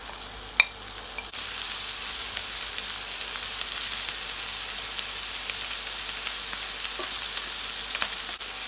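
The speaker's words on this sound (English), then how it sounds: "I'm going to include my spam and sausages because I like it to have a sear on the meat" Spam and sausages searing in a hot pan for kimchi pie, a sudden loud, steady sizzle that jumps in after a quieter second and then holds close and even, with a few faint clicks and no talk.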